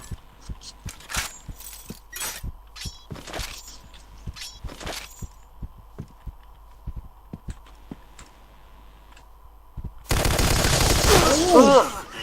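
Gunfire from the shooter game Point Blank: sharp, rapid shot bursts in short clusters over a steady low hum, followed by a louder, denser stretch of noise near the end.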